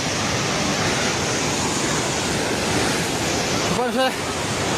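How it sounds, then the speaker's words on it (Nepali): Rushing floodwater in the Trishuli river area of Nepal makes a steady, loud broadband roar throughout, like heavy surf or wind, with a brief voice rising over it near the end. "पानी नजिक आइसकेको छ"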